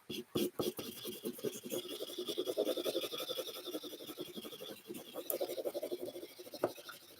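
A blue pencil scribbles rapidly across origami paper to colour one side, making a close, continuous scratchy rasp with quick back-and-forth strokes, under soft talking.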